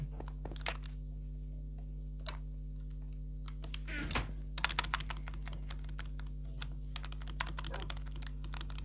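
Computer keyboard typing picked up by a gamer's microphone during a Minecraft survival session: scattered sharp key clicks and short bursts of rapid taps over a steady electrical hum, fairly close and mostly without talk.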